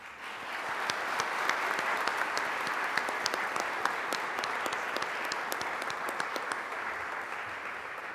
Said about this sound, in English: Could I ask my fellow graduates to quickly join me in a round of applause?